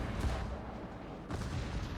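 Naval gunfire from the Japanese battleship Amagi in World of Warships, two heavy booming salvos a second apart, each with a rolling low rumble, at a fairly distant, subdued level.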